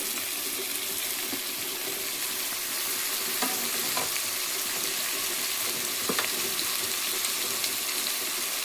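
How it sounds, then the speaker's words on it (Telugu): Tomato and brinjal pieces hit hot oil in a pan, giving a steady, soft frying sizzle that continues unbroken, with a few faint clinks and stirring sounds scattered through it. "ఇందులో అయితే టమాటా ముక్కలు, వంకాయ ముక్కలు అయితే వేసేస్తున్నాను."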